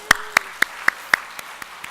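A church congregation applauding during an evening worship service: a handful of distinct, evenly spaced claps, close and fairly crisp, over a quiet background with a faint tone.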